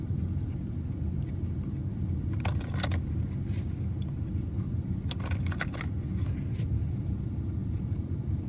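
Playing cards being shuffled in two brief riffling bursts, crisp close papery flutters over a steady low rumble.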